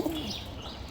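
A brief, low pigeon coo sounds close at the very start, then fades into soft background murmur; the birds are a pair of big-sized pigeon chicks, one male and one female.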